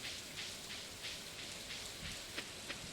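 Steady rain patters throughout a Stardew Valley co-op session, a continuous hiss of drops on a surface with soft brighter splashes, even and moderately loud with no voices.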